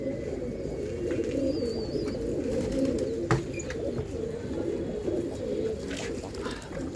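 Pigeons for sale cooing steadily, several low throaty coos overlapping in a continuous warble close by, with a few faint chirps and clicks above.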